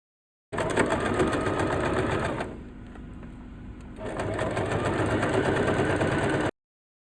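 A sewing machine sews the main fabric back panels and lining of a sling bag in two steady runs of rapid stitching, with a brief slower lull between them.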